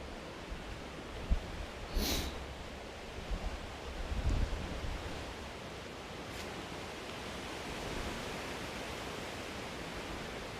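Wind and waves at the beach in Bognor Regis form a soft, steady, hissing wash from surf at a distance, with wind buffeting the microphone in low bumps and a couple of brief sharp noises near the start.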